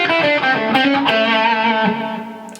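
Electric guitar with distortion plays a fast descending pentatonic lick with chromatic passing tones, a quick run of sustained overdriven notes, close and loud, trailing off at the end with no talk.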